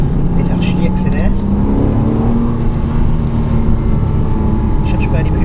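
A Porsche Cayman S accelerates on the Mettet track, a loud sustained engine drone with rising pitch heard from inside the cabin, with a person talking over it.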